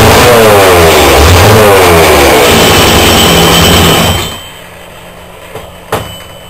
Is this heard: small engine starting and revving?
yes